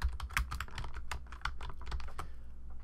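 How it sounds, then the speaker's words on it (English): Steady, fairly close keystrokes on a computer keyboard, with quick irregular clicks continuing throughout and no talking. "Let's go ahead and type this in"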